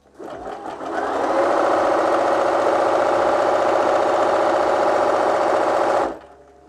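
A Bernina B 325 electronic sewing machine runs a zigzag stitch, starting up quickly into a loud, close, steady mechanical whir with a rapid needle rhythm for about five seconds, then stopping abruptly.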